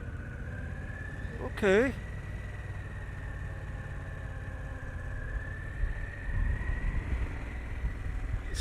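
A Harley-Davidson Pan America 1250 motorcycle from 2021 idles in a steady, low rumble, with a brief voice breaking in near the start.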